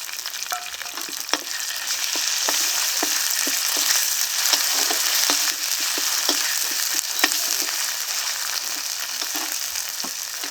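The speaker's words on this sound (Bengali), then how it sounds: "এখন মশলাটাকে ভালো করে কষিয়ে নিচ্ছি" Spice paste of onion, cumin, ginger, garlic and green chili with Kashmiri chili powder, salt and turmeric frying in a pan for rohu fish kalia, a steady close sizzle with scattered stirring scrapes and pops throughout, no talking.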